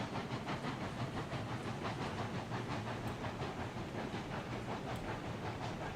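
A steam locomotive in the game RailRoads Online labours up a steep grade: a steady rhythmic chuffing with a constant hiss and rumble, unbroken and fairly even in level, with no voices.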